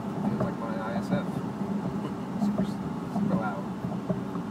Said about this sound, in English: It is a loud road, though, due to the patchy concrete.